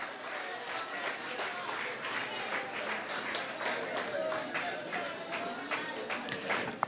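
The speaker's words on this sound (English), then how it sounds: "Give them a round of applause." A crowd at a party convention gives a sustained round of applause, dense continuous clapping filling the hall at steady loudness throughout.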